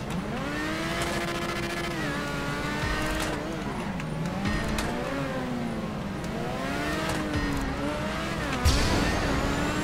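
An open-wheel race car in a racing video game drops through its gears into a braking zone, the engine note stepping down and rising again in repeated sweeps, loud and continuous with a brief tire scrub near the end.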